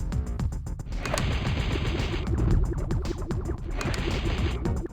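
Alien shots from the Space Invaders video game: rapid, repetitive retro firing pulses that come in quick bursts and stay steady and fairly loud throughout the few seconds.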